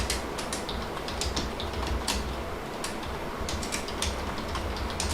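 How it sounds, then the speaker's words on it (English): Light keyboard typing, scattered quick clicks and short runs of keystrokes over a steady background hum, moderately close, with no one speaking. "I'm just typing something."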